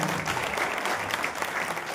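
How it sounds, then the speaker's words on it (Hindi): An audience gathered for a book release ceremony at Maharashtra Sadan in Delhi claps enthusiastically, a brief, steady burst of many hands clapping at close range. "जोरदार तालियों के साथ अभिवादन करना है।"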